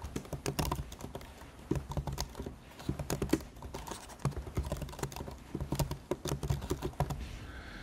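Rapid clatter of keys as a name is typed on a computer keyboard while setting up a network tunnel, with bursts of close, crisp keystrokes and short pauses throughout.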